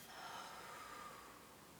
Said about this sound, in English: It's just the sound of breathing.